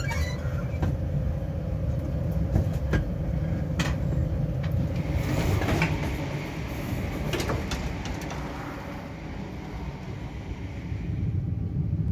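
A Melbourne train station concourse hums with steady rumbling and scattered knocks, clatters and sliding-door noises from trains and people.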